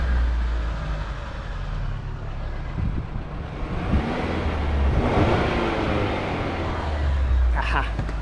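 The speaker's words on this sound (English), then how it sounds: "See if we can't hear that turbo." Chevrolet Silverado 4x4 pickup with a turbo, a close steady engine rumble that swells slightly midway as the truck is walked around, with a faint higher whine near the end.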